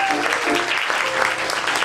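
Applause from a comedy show audience fills the room with a brief, steady burst of clapping, fairly close and even in level throughout.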